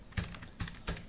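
Three distinct keystrokes tap on a computer keyboard at an uneven pace, close and crisp against a quiet room.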